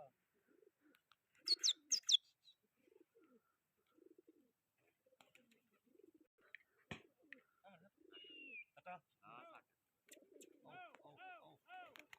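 Racing pigeons coo softly in short bursts, with a brief flutter of wings early on and scattered chirps, faint and intermittent against near silence.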